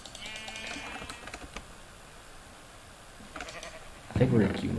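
Blocky farm sheep bleat in a Minecraft hardcore survival world, a few short calls with some keyboard clicking, then a louder bleat near the end, with no voice over the top.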